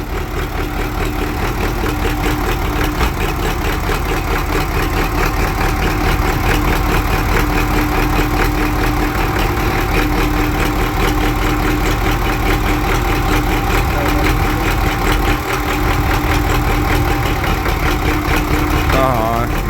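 MTZ-80 tractor engine running loudly and close, a steady rumbling idle throughout with people talking over it.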